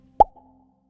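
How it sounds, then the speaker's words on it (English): One short, soft plop of a bubble bursting, close and isolated, followed by a faint trailing tone and silence. "Here is the sound of a bubble popping."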